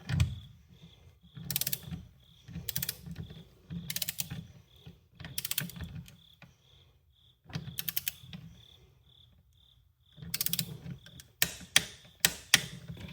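A torque wrench tightens the terminal screws of a 60 amp Tesla wall charger to 50 inch-pounds: repeated bursts of close ratcheting clicks separated by pauses, with a faint intermittent high tone in the background.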